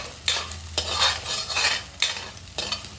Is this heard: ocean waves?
no